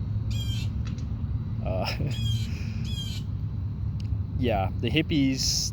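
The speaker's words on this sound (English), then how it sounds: "There's a bird in the background." A bird, likely a crow, gives harsh squawking calls now and then in the background, partly under a person talking over a low, steady hum.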